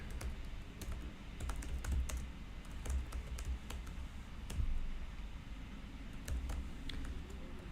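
Code being typed on a computer keyboard at a desk, a continuous run of light, fairly quick key clicks with a few louder taps, close and alone with faint room hum.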